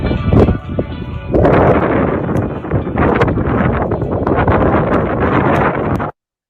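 Strong gusting wind buffets the microphone almost without pause, a loud, broadband roar that swells and pulses for about six seconds before cutting off abruptly.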